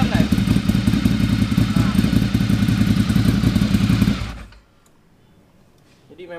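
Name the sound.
Ducati Monster 1100 Evo motorcycle engine running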